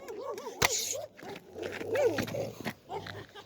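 A pack of dogs yelps, whines and snarls close by in overlapping, wavering cries, with a sharp bark near the start and a low rumbling background.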